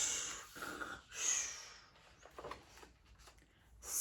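A voice mimics snoring with a few slow, wheezy snorts and breathy inhales, quiet and close, separated by short pauses.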